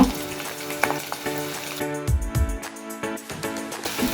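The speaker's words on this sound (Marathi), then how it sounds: "आता हा कांदा तेलामध्ये असा छानपैकी फ्राय करून घेऊया" Onion, garlic and green chili frying in hot oil for a dried salted surmai fish curry: a low crackling sizzle with spatula stirring and clinks, heard under soft background music, close, with no speech.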